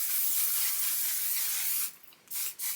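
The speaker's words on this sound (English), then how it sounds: "spray my face with setting spray" Setting spray misted onto a face: a steady, close airy hiss runs for nearly two seconds, then two shorter bursts follow after a brief pause.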